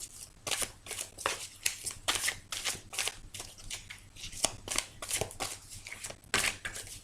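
Tarot cards being shuffled and cut by hand, a steady run of quick riffling flutters and soft snaps close up, with short pauses between bursts and no voices.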